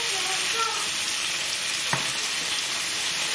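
Lamb on the bone sizzles steadily in a hot pan for a balti, a close, continuous crackling hiss with one brief clink partway through.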